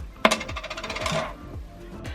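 A small 5-cent coin in Paris drops with a sharp metallic clink, then rattles and bounces in a series of quickening, fading rings before settling, close by and with no voices.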